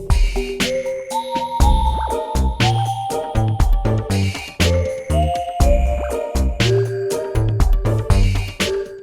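A theme from The World God Only Knows anime soundtrack, a full instrumental passage with sustained melodic lines over repeated chords and low bass accents, loud and continuous with no talking.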